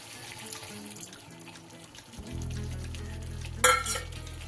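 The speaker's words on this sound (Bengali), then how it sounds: "আর একটু জল দেব।" Water poured into a hot pan of egg dopiaza, a steady sizzle and rush that starts partway through and swells with a brief louder splash near the end, close up with no voices.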